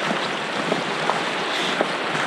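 Steady wind roars outdoors on a cold day in the Sylarna mountains, a dense, continuous rush close to the microphone, with a few faint clicks and no voices.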